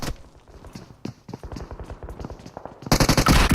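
Shotgun blasts trade with rapid UMP submachine-gun fire in a competitive shooter match, sharp bursts and single shots throughout, ending in a dense, loud volley.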